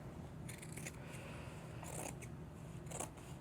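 Scissors snip through old, threadbare denim jeans in a few short cutting bursts, close and fairly quiet, with pauses between strokes.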